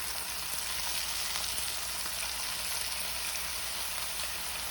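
Flour-dusted pot roast beef sears in a hot slow cooker pot, giving a steady, even sizzle that holds at a constant level throughout, close by and with no voices.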